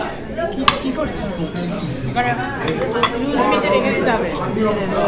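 Plates and cutlery clinking at a lunch spot by Madhuri Lake, with scattered sharp clinks of dishes over steady background chatter and nearby talking.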